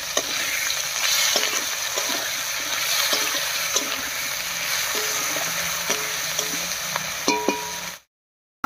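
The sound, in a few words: potatoes frying with ginger, cumin, chilli and onion pastes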